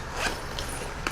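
Zipper on a belt bag being opened or closed, a few quick close raspy pulls spread through a short moment, with a sharper zip near the end.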